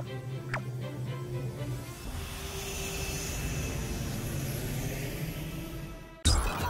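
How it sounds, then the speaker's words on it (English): A jumbo jet airliner passes overhead with a sustained, broad engine roar that holds steady at moderate distance, then gives way abruptly to a different sound at the very end. "It's an airliner."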